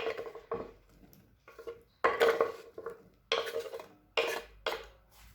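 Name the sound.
whisking three eggs in a bowl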